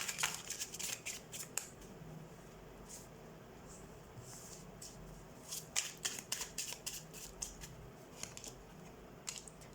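Tarot cards are shuffled by hand in soft, close riffles and snaps, in quick irregular flurries over a faint background hiss.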